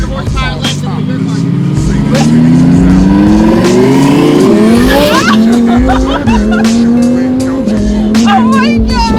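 Audi TT RWS race car with R8 engine accelerating hard, its engine note climbing through the gears with a clear upshift and a tire squeal, loud and close, with brief voices at the start.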